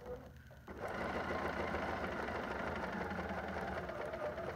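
A sewing machine stitches fabric for a flying geese quilt block, starting after a short pause and then running in a steady, fast mechanical rhythm of needle strokes at close range.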